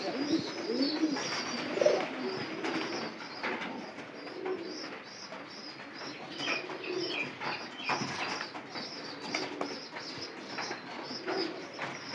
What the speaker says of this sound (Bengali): সব কবুতরের বাচ্চারা খাওয়াইতেছে।